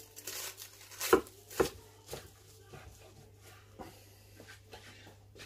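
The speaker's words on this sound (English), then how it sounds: "I am going to cut this in half for our viewing pleasure" A knife cuts through a baked Spam Wellington in puff pastry, making a few crisp crunching strokes early on and then softer, fainter cutting sounds over a low background hum.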